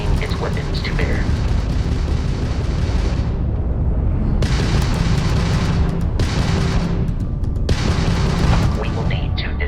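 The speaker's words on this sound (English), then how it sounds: "Ship combat tactics, because that's a Crimson Fleet ship bringing its weapons to bear." Spaceship weapons firing during ship combat against a Crimson Fleet vessel in Starfield, with heavy booming blasts and bursts in a dense, loud barrage, under a man's speech.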